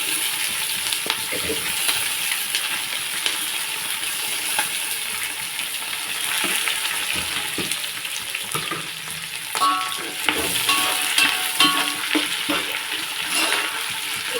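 Onions and green chillies fry in a pan for a home-cooked prawn gongura biryani, a steady close sizzle with scattered crackles and the clink of stirring, no talking.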